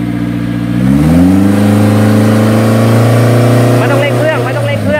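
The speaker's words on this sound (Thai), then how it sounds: "ตอนนี้ก็เก็บเชือกเลยครับ" A truck-mounted twin hydraulic winch rated 25,000 lbs reels in its rope, the engine revving up into a loud steady mechanical whine and drone, close and continuous, with someone talking over it.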